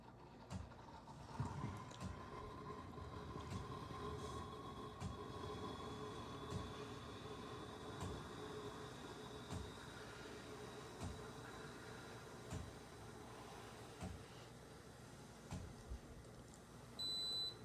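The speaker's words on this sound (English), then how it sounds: "we're gonna start steaming our milk" A Delonghi coffee machine steam wand hisses steadily while frothing milk, with a thin high whine over a low gurgling rumble and no one talking.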